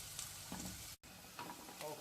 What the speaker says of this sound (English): Let it fry for a bit, and you will feel the aroma. You'll smell the garlic cooking.